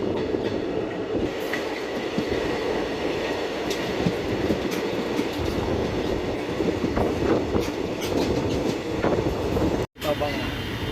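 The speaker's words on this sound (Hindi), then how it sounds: "ऑन टाइम ट्रेन निकल चुकी है लहरा मोहब्बत रेलवे स्टेशन से" An Ambala Cantt–Bathinda express train rolls along the rails in India with a continuous rumbling clatter and occasional metallic clicks, heard from on board at a steady pace.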